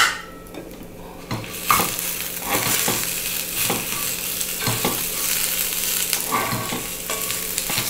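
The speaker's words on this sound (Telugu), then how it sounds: "ఈ లోపల పాటు ఆ పచ్చి స్మెల్, ఆ ఫ్లేవర్ అంతా పోవడానికి ఇప్పుడు దీంట్లో వేసి నేను వేయించుతున్నాను అనమాట." Roasted onion frying in a pan over a slow flame, a steady close sizzle with repeated stirring scrapes at a regular rhythm and no talking.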